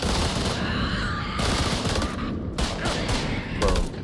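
Heavy gunfire in the horror video game House of Ashes, a loud, sustained barrage of overlapping shots and bursts that keeps going from start to finish, close and dense with chaotic combat noise.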